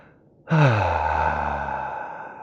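A person lets out a deep, loud exhale through the mouth during a guided yoga breathing exercise, a single long breath that starts abruptly and fades out slowly, heard close and alone.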